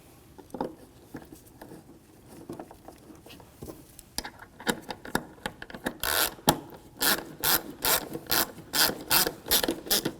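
Screws being driven down on an HID ballast control module of a 2007-2013 BMW 328i, a close ratcheting clicks and rubbing turns that grow louder and faster in a rapid run of sharp bursts toward the end, with no talk.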